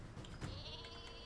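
The super sheep weapon in the Worms video game gives a short, quiet cartoonish bleat lasting about a second, heard alone.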